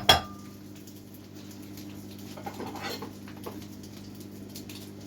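A pan lid and dishes being handled in a kitchen, a sharp clink at the start followed by faint scattered clatters and light rustling over a low steady hum.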